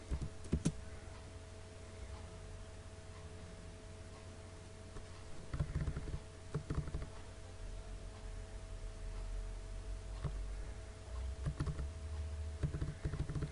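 AutoCAD commands typed on a computer keyboard, with scattered key clicks and short bursts of keystrokes over a steady background hum, close but quiet.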